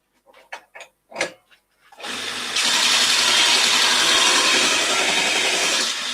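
A bench grinder sharpens a woodturning gouge used on a spalted beech bowl, a loud, steady, hissing whine that runs continuously after a few brief knocks and clicks.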